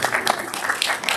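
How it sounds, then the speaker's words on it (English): Audience at a Boston city council candidate forum claps briefly, with dense applause filling a short burst. "Give yourselves a round of applause."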